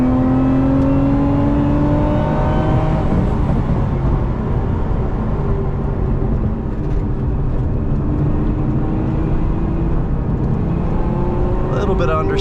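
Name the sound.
Lotus Emira V6 engine revving in third gear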